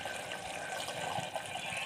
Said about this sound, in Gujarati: અડધો ગ્લાસ પાણી નાખ્યું છે.